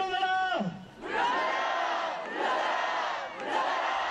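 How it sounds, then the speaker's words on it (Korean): Large crowd at a candlelight protest rally in Jeonju's Pungnammun Square shouting chants in unison, loud bursts of massed voices with a brief dip between calls. "전주 풍남문 광장에도 박근혜 대통령의 퇴진을 요구하는 함성이 울렸습니다."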